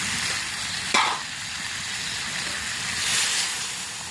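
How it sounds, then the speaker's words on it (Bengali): Water is poured into a pan of frying chicken curry with papaya, a loud broad hiss and sizzle running throughout, with a sharp burst near the start and a swelling surge toward the end. "এইবারে জল দিয়ে দেবো।"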